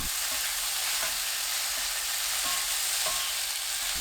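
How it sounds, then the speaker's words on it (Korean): A broccoli stir-fry hisses in a pan over high heat turned down to medium, a constant close sizzle with occasional light taps and stirs, and no voices. "1분 후 중불로 바꾸고 그때부터 2분 30초 더 볶아줍니다."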